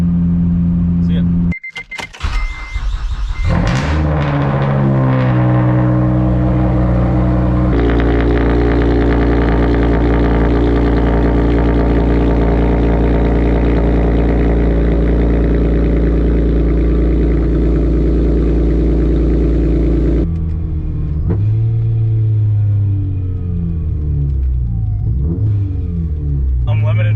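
A supercharged Acura TL Type-S with a Rotrex supercharger drones steadily while cruising, a loud close engine hum with harmonic tones that rise and fall as it moves off, settles into a long even run, then eases and shifts near the end.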